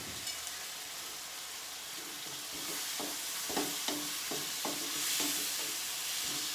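Chicken pieces sautéing in a pan of curry base for a chicken vegetable curry, a soft steady sizzle broken by several clanking stirs of a spoon against the pan, no talking.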